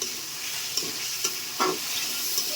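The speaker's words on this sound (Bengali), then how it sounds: "কচুগুলো সুন্দর করে কষিয়ে নেব। দেখতে পাচ্ছেন কষিয়ে নিচ্ছি।" Pieces of taro being sautéed in a pan, with a soft, steady sizzle and a few scraping stirs of a spoon, quiet and close with no talking.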